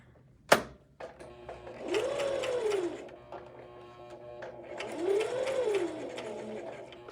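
A sewing machine back-stitches the seam of a fabric scrunchie: a sharp click, then two separate whirring runs of about a second each, the motor pitch rising and falling in each burst, close and fairly quiet.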